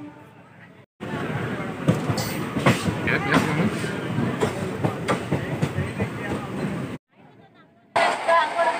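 A train rumbles and clatters steadily nearby at Salem Junction railway station in India, with rhythmic clicking of wheels over the rails, people talking faintly in the background, briefly cutting out twice.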